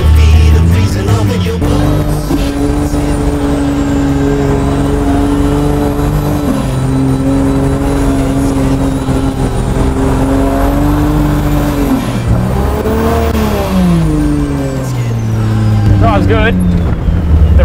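A Vancruiser's engine drones loudly and continuously on boost while driving in four-wheel drive on beach sand, its pitch rising and falling as the revs change, with a turbo whine above and voices talking over it.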